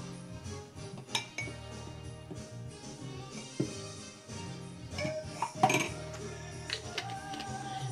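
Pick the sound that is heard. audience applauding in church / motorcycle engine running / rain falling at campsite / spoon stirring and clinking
spoon stirring and clinking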